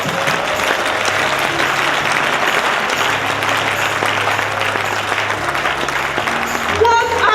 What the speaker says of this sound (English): Aren't you happy again to clap for him?